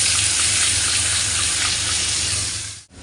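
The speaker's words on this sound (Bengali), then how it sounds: "মশলার বাটিটা ধুয়ে একটু জল দিয়ে দেবো" Water runs steadily from a tap into a spice bowl being rinsed in a home kitchen, a close, continuous gushing splash that stops abruptly near the end.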